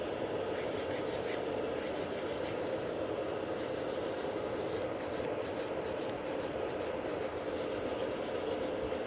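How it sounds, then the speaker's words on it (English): Steady, continuous rasping of a nail file against the sides of sculpted coffin-shaped gel nail extensions, close and even throughout with rhythmic strokes and no speech. "just by filing those sides, you can see it how much nicer the nails becomes"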